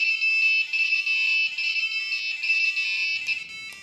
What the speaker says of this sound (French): par contre, le buzzer sonne toujours